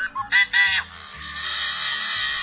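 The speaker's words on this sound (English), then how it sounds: "It's the yellow-headed blackbird." A yellow-headed blackbird gives a few short rasping notes, then a long strained buzzing screech, loud and near, with no other sounds around it.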